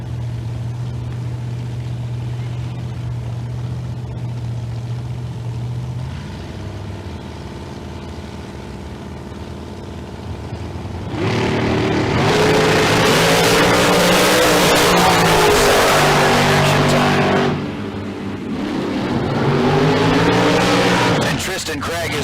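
Drag racing cars at Tucson Dragway during a bracket race idle with a low burble, then roar loudly down the strip in a sustained blast that drops and surges again.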